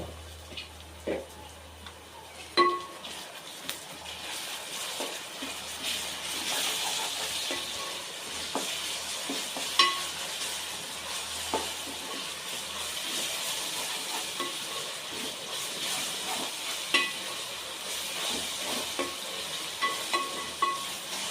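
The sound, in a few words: ginger garlic paste frying in oil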